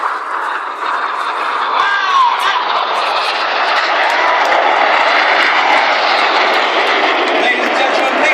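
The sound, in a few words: Red Arrows synchro pair jets flying low over crowd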